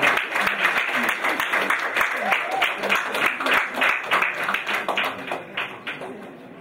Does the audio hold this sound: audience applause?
yes